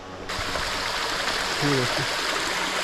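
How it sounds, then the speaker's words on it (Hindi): Natural mountain waterfall stream on the Brahmagiri trek near Trimbakeshwar, Nashik, giving a steady, broad rushing wash of water throughout, with a brief faint voice-like sound partway through. "यहाँ से एक प्राकृतिक झरने की आवाज़ आ रही है।"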